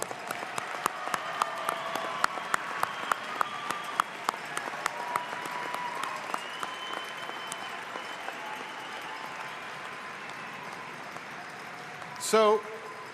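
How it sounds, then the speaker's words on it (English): Alumni and graduates applaud at the University of Northern Colorado 2021 fall commencement ceremony, with a steady round of clapping across a large hall that fades toward the end and is broken by a brief sharp noise near the close. "A big round of applause."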